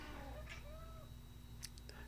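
A house cat gives a couple of short, close meows, with faint background hum and a few soft clicks in a quiet indoor room.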